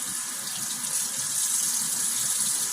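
Cold water runs steadily from a kitchen tap over raw chicken drumsticks being rinsed for oven-roasted BBQ, a continuous close hiss and splash with no pauses.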